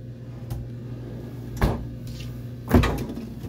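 A refrigerator freezer drawer on a 2003 Sealine 47 yacht opens with two distinct thuds about a second apart, set against a steady low cabin hum.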